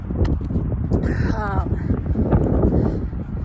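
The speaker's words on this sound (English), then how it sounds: "It's so windy, and that does not help." Strong wind buffets the microphone with a steady low rumble while someone talks over it.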